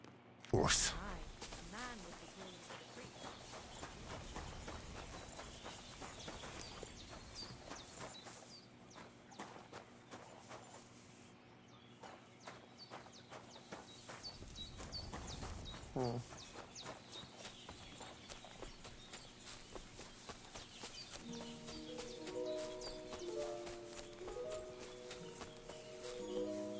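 Horse hooves clip-clop in a steady rhythm over game music in the video game Kingdom Come: Deliverance 2, with occasional faint bird calls and a brief voice.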